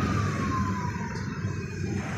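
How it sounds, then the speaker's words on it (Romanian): Heavy night traffic rumbles continuously through a city street in Cluj, Romania, with a steady broadband roar of engines and a siren-like tone sliding downward in the background. "Traficul este destul de intens aici, este zgomot."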